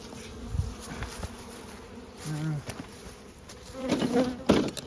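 Bees buzzing around beehives outdoors, with a few faint passing buzzes and some soft knocks and background noise, fairly quiet overall.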